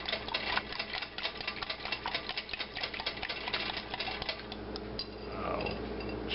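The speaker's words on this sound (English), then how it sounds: "start whisking this together" Hand whisk beating milk and eggs together in a bowl for a breakfast casserole, a steady, fast, close rattling of wire against the bowl continuing throughout with no talk.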